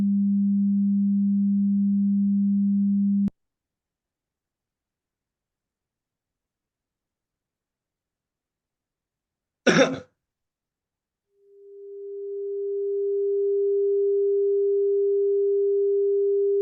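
A steady pure sine test tone at 200 Hz stops, a brief throat-clear breaks the silence, then the tone returns one octave higher at 400 Hz, swelling in and holding loud and clean.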